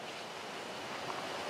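Indian Ocean surf off Sumatra makes a steady, full wash of waves with some wind noise, continuous and fairly even in level throughout.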